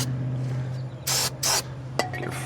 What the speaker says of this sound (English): Spray it somewhere out of the way.